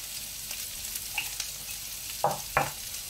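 Octopus pieces sautéing in a pan alongside courgettes seasoned with salt and pepper, giving a soft, steady sizzle with a couple of brief louder stirring scrapes near the end.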